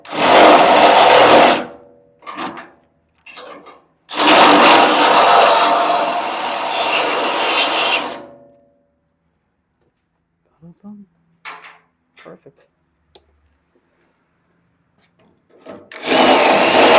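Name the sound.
reaming a hole out to the next size bigger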